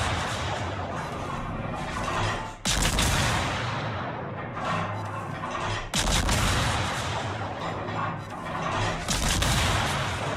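A warship in World of Warships fires high-explosive shells from its main guns, two huge sudden booming salvos several seconds apart over a constant roar of sea and engine noise, with scattered distant gunfire between.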